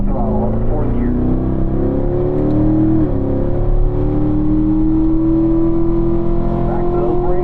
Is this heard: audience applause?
no